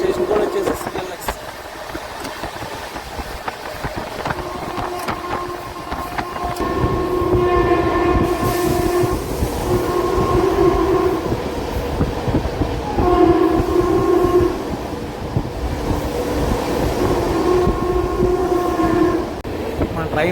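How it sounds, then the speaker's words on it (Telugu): Chennai–Nizamuddin Duronto superfast express running at speed, a steady rumble of wheels and carriages with repeated horn blasts sounding over it through the middle and later part, with a voice briefly heard. "టాప్ అండ్ హాఫ్ స్పీడ్ వెళ్ళిపోతుంది మన ట్రైన్."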